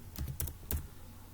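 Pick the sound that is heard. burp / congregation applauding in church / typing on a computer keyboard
typing on a computer keyboard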